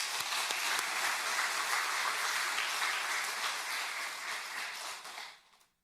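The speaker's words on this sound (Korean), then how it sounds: "우리 할렐루야 찬양대와 오늘 처음 또 경배와 찬양 인도한 김진국 목사님, 또 주일 경배 찬양팀 함께 축복하고 격려하는 박수 하도록 하겠습니다" Church congregation applauding the choir and worship leaders at a Sunday service: dense, steady clapping from many hands, moderately distant, sustained for several seconds before fading out.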